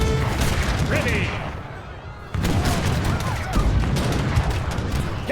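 Troops fire a volley of musketry in a video game, with bursts of gunfire and scattered booms crackling over a busy battle din, while soldier voices respond in the background.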